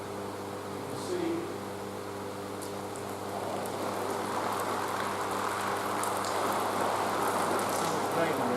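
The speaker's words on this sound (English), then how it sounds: "how much rain there is around me." Steady rain effect pattering all around an umbrella, a broad continuous hiss that grows a little denser over time, with faint background hum.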